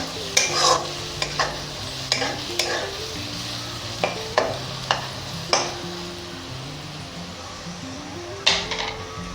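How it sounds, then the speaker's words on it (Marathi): Crushed ginger, garlic and green chili sauté in oil in a pan for pav bhaji, giving a steady close sizzle punctuated by about a dozen sharp spoon scrapes and taps as it is stirred. "हे पण चांगलं त्याचा कच्चापणा जाईपर्यंत परतून घेऊया."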